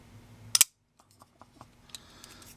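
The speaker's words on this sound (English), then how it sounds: "Ball bearing flipper. Oh. And the flipping action. I know why these things are so addictive. Listen to that double click." A ball bearing flipper knife with a stonewashed 3 5/16-inch blade flicks open in one sharp, crisp snap, followed by faint small mechanical ticks in a quiet room.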